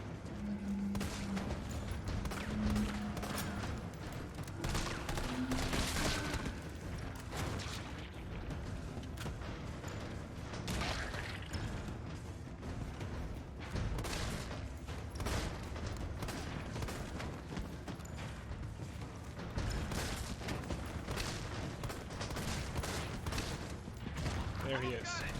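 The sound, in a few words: gunfire against zombies in video game Resident Evil 3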